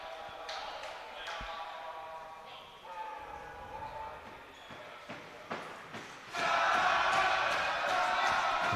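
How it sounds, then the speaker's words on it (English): Warwick supporters cheering at a men's futsal trophy final against Bath, an indoor crowd roaring and whooping with ball bounces and shouts, rising to a loud sustained swell near the end, with voices mixed in. "And the Warwick crowd in full voice"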